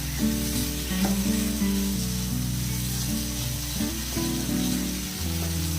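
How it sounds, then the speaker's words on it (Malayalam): Chicken fries in a pan with spice paste, a dense close sizzle running continuously beneath a steady low hum and background tones. "കൂട്ടി വെച്ചിട്ട് നല്ലപോലെ ഫ്രൈ ആക്കി എടുക്കാം"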